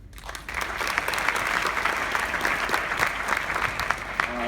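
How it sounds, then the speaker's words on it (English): Audience applause for the conductor at a high school jazz band spring concert, a dense, full wash of clapping from a large crowd that swells quickly and holds steady at a loud level. "So, applause for Mr. Foti."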